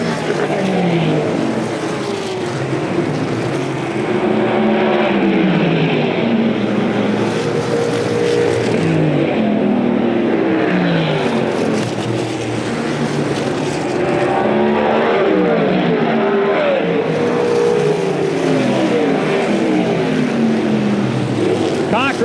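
USAC Silver Crown race cars battle for the lead on the DuQuoin dirt mile during the Ted Horn 100, engines roaring steadily and loudly throughout, with a race announcer's voice running over the top.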